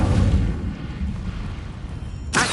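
The Incendio fire spell cast in the wizarding game Hogwarts Legacy makes a deep, rumbling fiery whoosh that slowly fades, then a sharp burst flares near the end.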